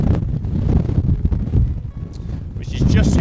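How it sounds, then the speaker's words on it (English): Strong wind buffets the microphone outdoors in cold, wet Icelandic weather, with heavy gusty rumbling that rises and falls while someone talks over it. "it's pretty windy here, cold and wet."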